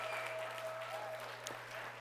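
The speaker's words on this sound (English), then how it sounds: "That round of applause goes right back to you for believing that." An audience at a business presentation claps in a steady, moderately distant round of applause with a low constant hum underneath.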